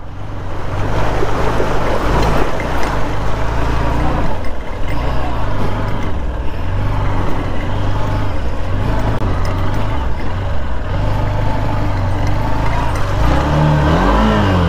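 A vehicle's engine drones loudly and steadily close by on a rough rural road, its low rumble holding throughout with slight swells and no clear pause.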